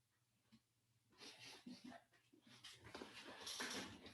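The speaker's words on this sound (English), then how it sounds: "What are you doing, you crazy dog?" A dog whimpers and breathes in faint, uneven whines and snuffles close by, rising slightly in intensity over a few seconds in a quiet room.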